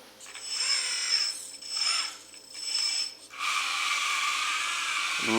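A LESU LT5 RC tracked skid steer loader with a dual motor controller whines in several short pulses, its small electric motors and tracks grinding, then settles into a steady higher-pitched hum.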